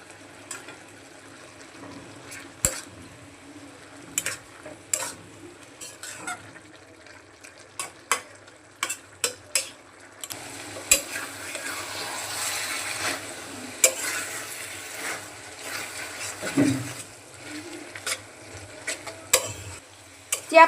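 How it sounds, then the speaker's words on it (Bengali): A lid comes off a pot of taro stolon curry, followed by repeated spoon clacks and scraping against the pot over a soft simmering sizzle that swells in the middle stretch. No one speaks. "ঢাকনাটা খুলে সব কিছু নাড়িয়ে দেব।"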